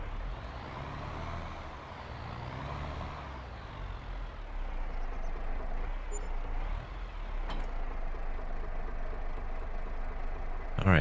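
A truck backing up with a trailer in Farming Simulator 22, a steady engine rumble with a brief hiss near the end, heard alone without talk.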